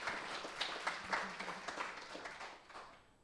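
Faint audience applause for a performer named Mike, a scattered patter of clapping from a crowd that fades out over a few seconds.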